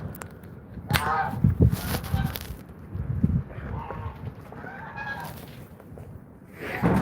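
Honking and clucking geese in a goose yard in South Dakota, several calls scattered over a few seconds with a voice talking in between, close and moderately loud.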